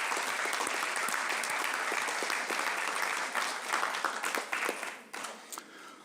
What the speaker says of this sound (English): If we could just give all of them a big round of applause.